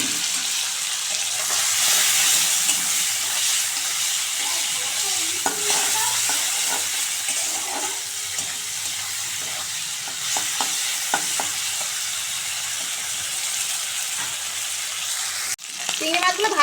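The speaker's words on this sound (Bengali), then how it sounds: "এই চিংড়ি মাছগুলো আগে ভেজে নেব" Cleaned prawns, seasoned with salt and turmeric, fry in hot oil in a village kitchen, giving a loud, steady sizzle with occasional stirring scrapes and clinks. A sharp knock sounds near the end.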